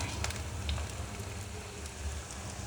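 Potato donuts fry in oil with a dense, steady sizzle and fine crackle that stays even from start to end, close by and without talking.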